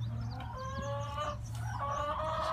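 Backyard chickens clucking in short repeated calls with a steady low hum underneath, the hens fairly close and continuous throughout.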